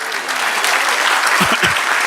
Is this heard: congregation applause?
yes